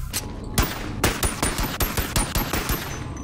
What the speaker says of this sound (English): That took way too many shots.